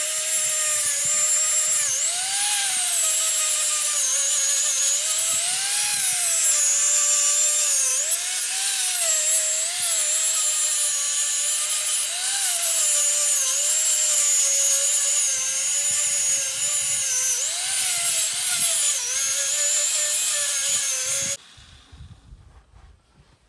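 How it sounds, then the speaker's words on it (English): Pencil grinder with a round flap disc scrubbing grime off a semi trailer wheel hub: a loud, steady high-pitched whine with wavering pitch that runs nonstop, then cuts off near the end. "What I'm using here is a pencil grinder with a round flap disc, just to take all this crap off of here"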